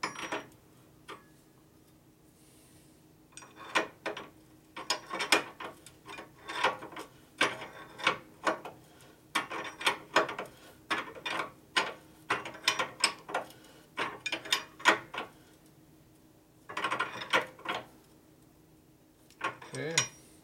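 A 1 1/8 inch wrench working the rear master cylinder of a 1990 Harley FXR, giving repeated close, sharp metallic ratcheting clicks in irregular bursts with short pauses between them.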